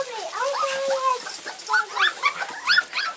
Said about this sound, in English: 3 female Australian shepherds.